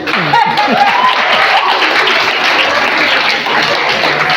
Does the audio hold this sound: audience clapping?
yes